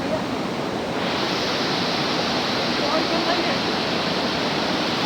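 A river rushes with a steady, loud roar of broadband water noise as people prepare to cross it on foot in Nepal.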